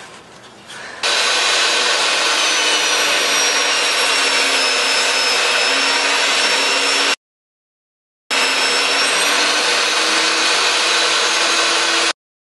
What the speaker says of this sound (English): I'm going to set my fence and cut those out